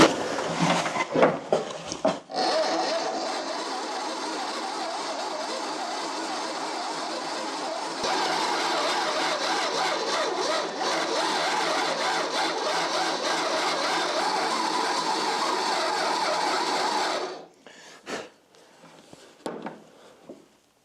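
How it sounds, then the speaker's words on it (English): A treadle-powered Dremel cleans the inside of a 1949 American steel-head screwdriver, giving a steady, loud, whirring grind for about fifteen seconds, followed by a few brief scraping touches as it winds down. "For the inside, I'm gonna use my treadle powered Dremel."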